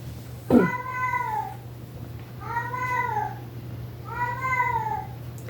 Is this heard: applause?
no